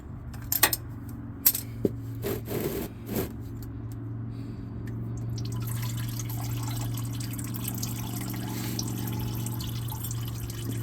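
Fluid drains and trickles from a car engine being checked for a leaking rear main seal, treated with stop leak. A few sharp metallic clinks come first, then a steady, close, low trickling with a faint hum underneath.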